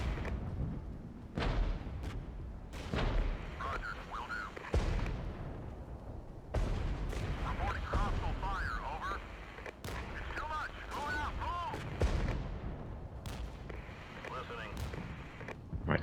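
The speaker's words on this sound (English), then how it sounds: "Right, let's bombard." Artillery bombardment in the real-time strategy video game Regiments, a series of heavy booming impacts and blasts landing every second or two, loud and continuous, with faint voices and game chatter underneath.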